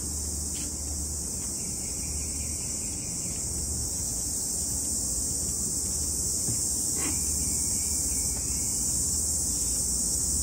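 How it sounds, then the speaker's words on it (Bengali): Crickets chirp in a steady, unbroken high drone through a forest at early morning, with occasional faint bird calls in the background and no voices. "আরেকটা বলে ঝিঝি পোকার আওয়াজ যেটাকে বলে"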